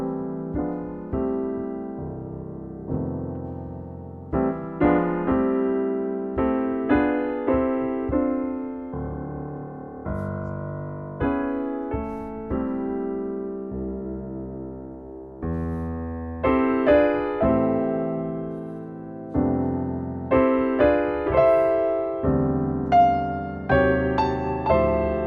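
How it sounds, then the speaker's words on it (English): Jazz piano block chords voiced over a song's melody, a steady flow of rich stacked harmonies with each chord struck and left to decay, played alone at a moderate level with no talking. "if I were to use these block chords in the context of the song and playing it over the melody, it'll sound something like this"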